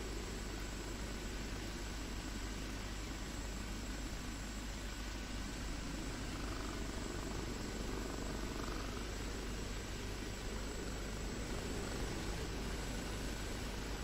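An OH-58D helicopter in flight heard from inside, a dense constant roar of engine and rotor with a faint high whine, unbroken and steady throughout.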